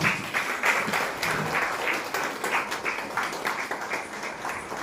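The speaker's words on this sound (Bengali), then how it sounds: "হাততালি কোথায়?" An audience applauds a children's dance performance with sustained, dense clapping that stays loud and fairly even throughout, with a faint hint of voices underneath.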